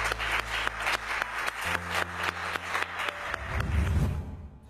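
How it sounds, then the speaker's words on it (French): Studio audience applauds a contestant leaving a Dinor cooking challenge show, steady dense clapping with a low musical bed underneath, swelling slightly toward the end. "Mais on t'applaudit."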